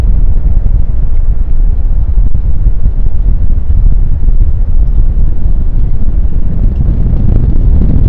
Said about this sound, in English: that gives you an idea of just how windy it is. It's literally probably 25-mile-an-hour winds